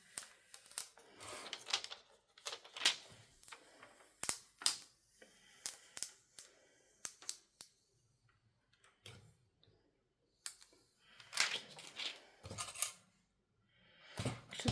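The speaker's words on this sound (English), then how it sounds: "peel this back very carefully" Cricut vinyl transfer tape is peeled back slowly by hand in a quiet room, giving soft, intermittent crackles and ticks in short clusters with pauses between.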